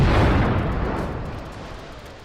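A huge demolition blast of over 20,000 pounds of explosives bringing down a nursing home, opening as a loud deep boom that rolls into a long rumble and slowly fades.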